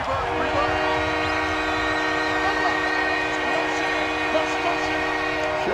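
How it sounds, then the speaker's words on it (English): Steady train horn or whistle from Madden NFL 20 game audio, a continuous layered tone holding loud and unbroken across the whole stretch with no break, over a low rumbling bed. "Shut that train up."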